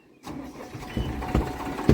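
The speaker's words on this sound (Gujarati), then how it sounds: "હાલો ભાઈ ટ્રેક્ટર હાલતું થઈ ગયું" A tractor engine cranks and catches, then chugs with low, uneven thumps that grow louder toward the end, heard up close outdoors with no talk.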